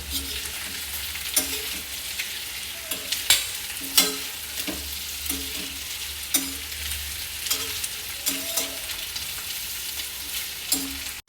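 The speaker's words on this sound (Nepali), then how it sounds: "यसरी राम्रोसँग यो भुटिरहेको छ" Chicken gizzards with salt and turmeric frying in a pan, a constant sizzling hiss broken by repeated sharp scraping knocks of stirring at irregular intervals, loud and close, with no voices.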